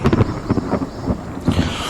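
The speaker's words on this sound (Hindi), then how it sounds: "आसमान में ज़बरदस्त बिजली कड़की" Heavy thunder rumbles and cracks in a few rolling bursts over steady stormy noise, the kind of dramatic storm effect used in a spoken Hindi horror story set at a lonely farmhouse.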